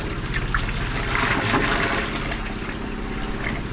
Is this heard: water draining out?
yes